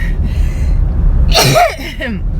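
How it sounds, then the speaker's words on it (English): A single sneeze bursts out loud and close amid a steady low background hum, followed by a brief gasping breath. "Now I've sneezed."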